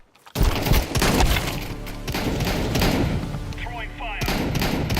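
A decoy grenade in Counter-Strike 2 rattles off rapid bursts of fake gunfire, a loud, dense clatter of repeated shots and thumps that runs on for several seconds.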